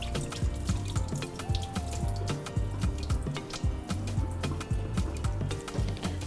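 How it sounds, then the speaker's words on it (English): Water drains off freshly washed rice, with steady splashing and dripping close by and irregular small plops throughout, with no voices. "So we drain it. I need to drain the rice."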